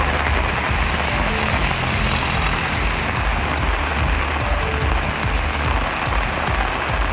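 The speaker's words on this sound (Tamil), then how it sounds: "அசோக் நகர், மேட்டுப்பட்டி, டிவிஎஸ் கார்னர், பிருந்தாவனம் உள்ளிட்ட பல்வேறு இடங்களில் மிதமான மழை பெய்தது." Moderate rain falling across a town, a loud, dense and unbroken hiss of drops that holds steady throughout, with no voices.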